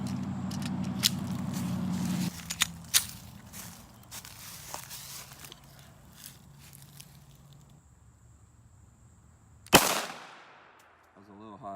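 Glock pistol with a red dot sight fired while zeroing: light handling clicks and movement, then one sharp, loud shot with a ringing decay.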